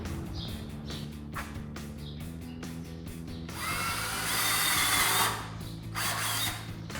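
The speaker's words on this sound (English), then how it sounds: "we're gonna go ahead and drill our 4 holes on this board" A power drill whirs in repeated short bursts with brief pauses between, then bites into a wooden board with a louder, longer grinding spin.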